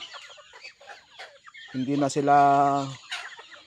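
Backyard chickens kept in a rural yard, a near, loud drawn-out squawking cackle with harmonic tone after some scattered softer clucks and bird noise, someone briefly talking at the start.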